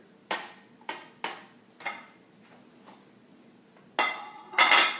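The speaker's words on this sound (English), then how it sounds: "Now we're going to spoon some of that filling that we did earlier." Cake filling spooned into a trifle dish for an Italian cream pecan coconut cake trifle, with several separate clinks of a spoon against the dish, then a louder scraping clatter near the end.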